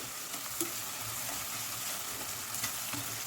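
Coriander, garlic and ginger paste fries in a pan over medium-low heat for potato pulao, a steady close sizzle with faint stirring knocks throughout, no voices.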